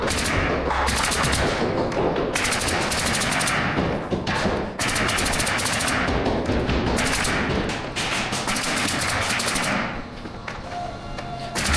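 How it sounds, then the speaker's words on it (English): A nail gun fires rapid bursts of sharp shots, fastening plywood floor sheets to the joists of a utility shed, with short pauses between volleys and steady background noise throughout. "I'm just gonna be nailing the perimeter, making sure she's secure"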